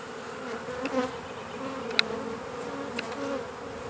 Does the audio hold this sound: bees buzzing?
yes